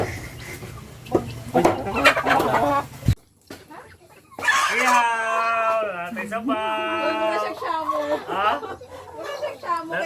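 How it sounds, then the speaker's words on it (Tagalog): Chickens cluck and squawk close by in short, irregular bursts, with a few sharper cries, after some brief noisy shuffling at the start. "Nagmukbang ang manok."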